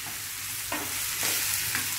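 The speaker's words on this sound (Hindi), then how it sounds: "अब हम इसमें जो भिंडी हमने फ्राई करी थी वो हम ट्रांसफर कर देंगे।" Fried okra (bhindi) is tipped into a hot pan and stirred, giving a loud, close sizzle with a few scraping stirs across a short stretch.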